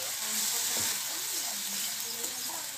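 Onions frying in oil in a pan for prawn biryani give a loud, steady close sizzle and hiss throughout, with faint stirring scrapes underneath.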